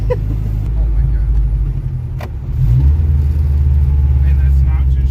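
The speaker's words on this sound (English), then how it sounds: "And that's not too shabby of engine braking either." A truck engine braking on the road, a loud close low rumble that swells and deepens partway through, with voices talking over it.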